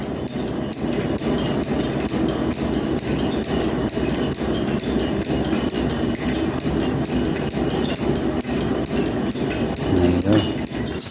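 A metal planer machines a flat surface through slag and scale, making a steady grinding clatter with regular rhythmic knocks from each cutting stroke that repeat evenly throughout, loud and close.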